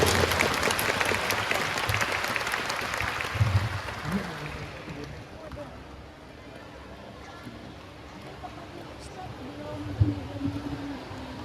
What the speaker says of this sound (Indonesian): Kita sambut dengan aplaus yang meriah